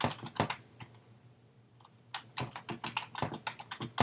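Close, clattering keystrokes on a computer keyboard as a search for Transformers Bumblebee is typed, quick bursts of clicks with a short pause in the middle and no talking.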